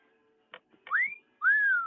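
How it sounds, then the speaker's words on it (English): Whistle sound effect played during a live variety show: a few short clicks, then two rising, sliding whistle tones, clear and close against quiet. "Where's my whistle sound?"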